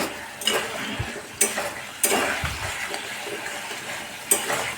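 Eggplant, potato and egg curry being stir-fried in a pan, with repeated scraping and clanking of a spatula against the metal, over a soft background sizzle.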